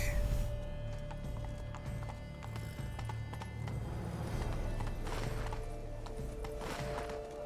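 A horse gallops in Witcher 3: Blood and Wine, steady clip-clop hoofbeats at a moderate volume with a brief whinny, under a continuous background game ambience.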